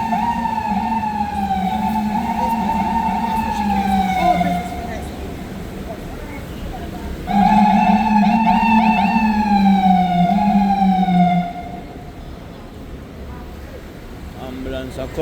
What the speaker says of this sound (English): Ambulance a cut and go through.